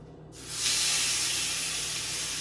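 Loud, steady broadband sizzle erupts after a brief pause and continues without letup as raw chicken is laid into hot oil in a pan.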